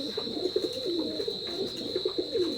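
Teddy pigeons coo softly and repeatedly in a rhythmic, low bubbling murmur, close by, with a steady high-pitched hum running underneath.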